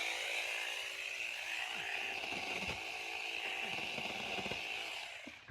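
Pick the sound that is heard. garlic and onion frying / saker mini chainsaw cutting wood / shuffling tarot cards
saker mini chainsaw cutting wood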